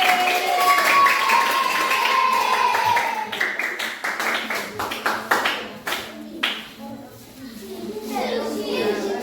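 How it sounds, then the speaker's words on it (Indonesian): A primary school class bursts into applause for a student group, a dense run of claps that thins into scattered individual claps, with children's and adult voices talking over it. "Tepuk tangan dulu"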